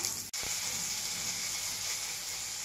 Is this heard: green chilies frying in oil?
yes